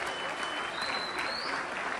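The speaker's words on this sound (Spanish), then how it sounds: "Un aplauso para..." Audience applause at an event marking a cattle company's 50th anniversary, a steady dense wash of clapping throughout, close and fairly loud, with a faint high tone running underneath.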